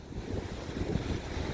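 Surf washing onto a tropical beach on the Cuban coast at a resort, heard as a steady, broad wash of waves with some wind noise across the microphone, with no voices.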